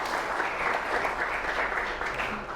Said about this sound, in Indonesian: Beri tepuk tangan dulu untuk Salman